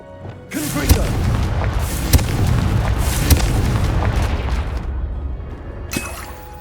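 Loud booming explosive blasts from the Confringo spell in the Hogwarts Legacy video game, several sharp impacts rolling into a sustained rumbling roar that fades after a few seconds, with a faint voice briefly underneath.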